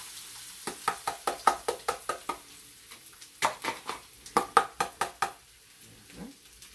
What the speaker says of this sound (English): We're going to fry some garlic.